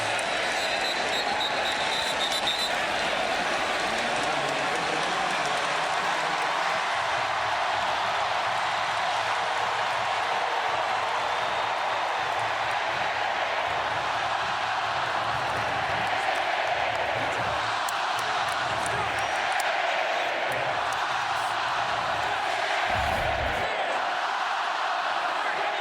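Crowd noise fills a college football stadium during an Alabama Crimson Tide versus South Carolina Gamecocks SEC game in 2025, a steady loud roar with swelling cheers throughout, and some voices mixed in.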